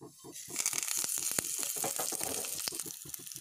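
Mustard seeds and curry leaves crackle and sizzle in hot oil with a few green chillies, a loud, close, steady frying hiss dotted with sharp pops throughout.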